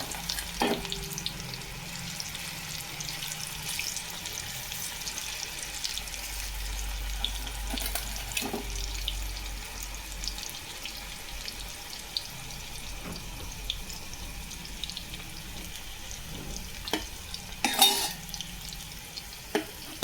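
Batter fries in a pan with a steady, quiet sizzle and crackle that runs throughout, with an occasional brighter pop or clatter.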